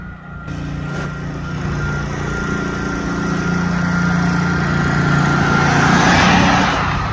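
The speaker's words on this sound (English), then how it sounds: "Kind of wish this guy wasn't driving the lawnmower over here. It's killing our acoustics." A lawn mower engine drones steadily nearby, loud and continuous, growing slightly stronger over several seconds with no talk over it.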